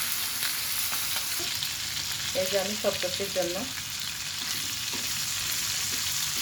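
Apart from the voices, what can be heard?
hilsa fish frying in oil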